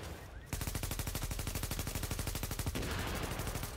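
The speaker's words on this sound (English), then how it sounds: "I'm melting them with my G36" Rapid automatic fire from a G36 rifle in The Division video game, a fast, even burst of loud close shots lasting a couple of seconds before it stops abruptly, with no talk.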